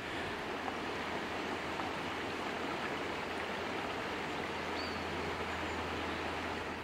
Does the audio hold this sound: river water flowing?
yes